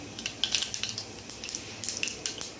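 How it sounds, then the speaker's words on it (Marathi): Mustard seeds and cumin hit hot oil and sputter in a dense run of quick, sharp crackles and pops, close and fairly loud over a low sizzle. "तर त्यात टाकते मी मोहरी मोहरी ततडली की त्यात टाकायचं आहे थोडंसं जिरं"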